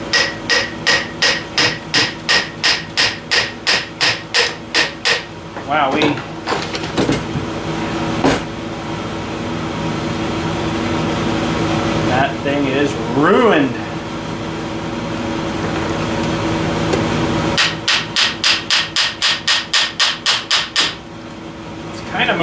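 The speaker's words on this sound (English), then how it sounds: "Let's roll the hammer and see if we can get this thing apart." Hammer blows on a Ford 2N tractor part, fast metallic strikes in sharp rapid bursts at the start and end, with a man's brief remark and steady background hum in between.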